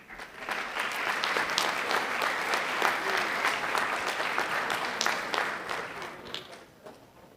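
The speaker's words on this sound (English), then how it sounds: "will you please give them a round of applause along with our partners?" An audience at a school board meeting applauds as students leave, sustained moderately loud clapping from many hands that swells, holds steadily for several seconds, then tapers off.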